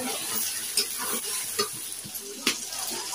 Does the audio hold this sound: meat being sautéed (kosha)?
yes